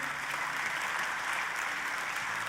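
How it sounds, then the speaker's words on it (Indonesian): A church congregation applauds during a sermon, a steady, even wash of many hands clapping throughout, moderately loud and unbroken with no voices above it. "bolehkah sebelumnya saudaraku kita berikan tepuk tangan terlebih dulu"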